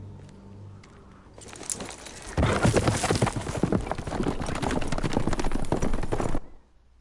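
Horses gallop in a Game of Thrones video game, a rapid, loud run of hoof clip-clops that starts after a quiet lead-in, holds for about four seconds, then cuts off abruptly.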